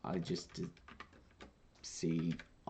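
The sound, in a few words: typing code on a computer keyboard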